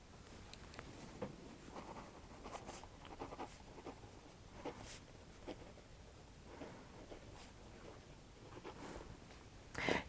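Pen or pencil writing on paper, a run of soft, scratchy strokes with short pauses in a quiet room, ending with a slightly louder tap or rustle.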